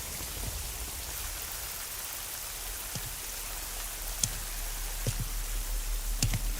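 Rain falls in the Metal Gear Solid Delta: Snake Eater video game as a continuous, fairly soft downpour hiss. A few sharper drips and taps stand out here and there.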